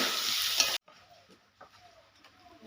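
Fried potatoes going into a pan of mutton curry: a burst of loud sizzling cuts off abruptly, followed by quiet scraping and stirring sounds.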